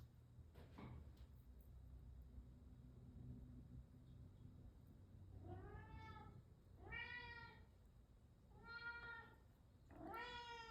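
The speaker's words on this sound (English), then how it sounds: "that's my cat" A pet cat meows indoors in a run of four quick, fairly faint calls, with a soft knock and quiet room noise before them.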